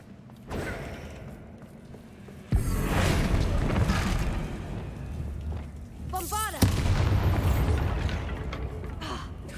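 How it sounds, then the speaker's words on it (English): A deep explosion booms loudly in a video game set among spiders, with sustained rumbling debris and a second blast, while a voice talks over the game sounds. "One explosion."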